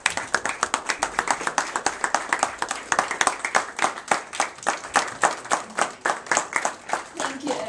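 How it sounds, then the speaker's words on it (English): Applause breaks out at a Model UN press conference in Almaty: close, loud clapping settling into a steady, fairly even rhythm of sharp hand claps that runs throughout without letting up. "So please give applause to Aaron and stand up."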